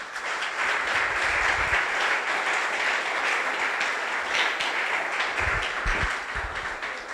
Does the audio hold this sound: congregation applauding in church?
yes